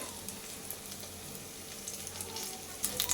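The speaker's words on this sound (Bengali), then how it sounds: "ভালো করে ডুবিয়ে এবার এই তেলের মধ্যে ছেড়ে দিতে হবে" Pumpkin slices dipped in gram flour batter sizzle and crackle in hot frying oil, a continuous close hiss with brief sharper pops toward the end.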